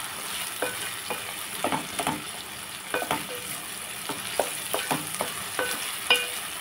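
Brinjal and raw mango frying in a pan, with a soft, steady sizzle and light intermittent stirring scrapes and taps, fairly quiet and close, no talking.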